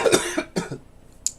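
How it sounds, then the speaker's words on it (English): A person recovering from a cold coughs in three short harsh bursts, close to the microphone, with no talking over them. "So, mind the coughing here and there."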